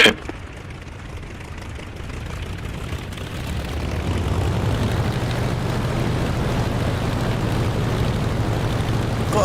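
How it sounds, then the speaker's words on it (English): A propeller aircraft engine in the DCS flight simulator builds to a steady, loud takeoff drone, swelling after a few seconds and holding a constant roar to the end, with no talking. "I'm going to try and take off again"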